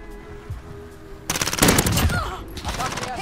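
Rapid automatic gunfire from the video game Call of Duty Warzone, dense bursts of loud shots starting after a quiet opening and continuing to the end, with faint game sounds underneath.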